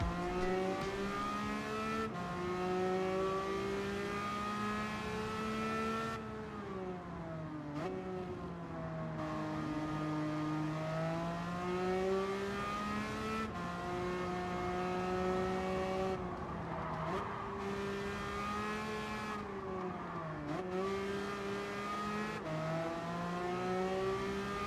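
A racing car engine in Gran Turismo 7 revs steadily with rising and falling pitch through gear changes, loud and continuous throughout, with no voices.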